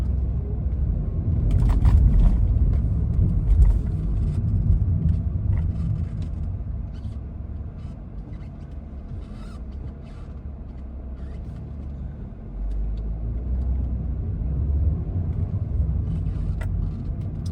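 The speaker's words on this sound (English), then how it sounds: "we are stuck in the traffic" Low, steady engine rumble and road noise from inside a car creeping through stop-and-go traffic past road works in Riyadh, with occasional heavier vehicle sounds and faint brake hiss nearby, no talking.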